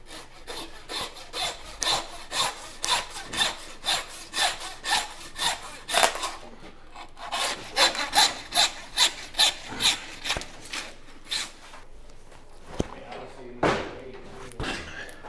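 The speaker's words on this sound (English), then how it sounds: "So to cut these caveman steaks, we just go right at that ball joint, right below that round tip roast. And then I grab my handsaw." A handsaw cutting through a beef hind shank bone at the ball joint, with steady rhythmic back-and-forth rasping strokes, close and fairly loud, pausing briefly and ending in a few scattered knocks.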